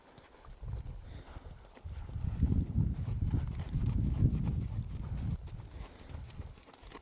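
Horse hooves clip-clopping steadily on the ground during cattle work, a dull, continuous near rhythm of hoofbeats that swells in the middle and fades toward the end, with no talk.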